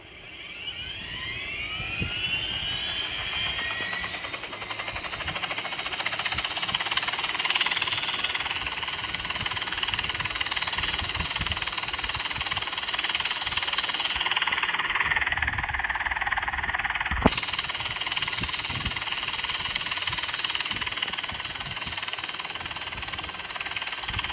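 A video-game helicopter's steady rotor and engine roar drones on continuously at close range, loud and unbroken, with a brief sharp click partway through.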